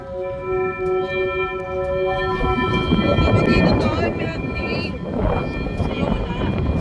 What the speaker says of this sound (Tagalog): Malaksan talaga yung hangin.